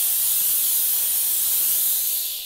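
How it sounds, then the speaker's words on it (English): Polti Vaporetto steam cleaner venting steam at maximum pressure, a loud, continuous, close hiss that holds steady and then begins to fade at the end. "So yeah, quite impressive on the steam for sure. It's definitely powerful."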